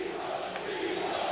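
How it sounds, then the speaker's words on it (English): Boxing crowd at a WBO middleweight title bout roaring in a steady, dense wash of cheering and shouting, moderately loud and continuous with no voices standing out. "And that's got the crowd going."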